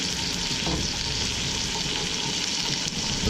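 Strips of deer heart frying in a hot pan, a dense, loud, unbroken sizzle with a few faint pops, heard up close and without any voices.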